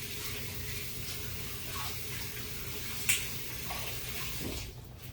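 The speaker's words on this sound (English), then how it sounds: "I get my hands washed up real quick" Hands being washed under a running kitchen tap, a steady close wash of water with small splashes and one brief sharp clink partway through, ending abruptly as the flow stops.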